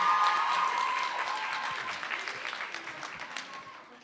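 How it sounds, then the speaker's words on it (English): A youth-session audience claps for a poet, a fairly loud wash of applause from many hands with a brief shout or voice near the start, gradually tapering off over several seconds. "Where's the clapping for Aya?"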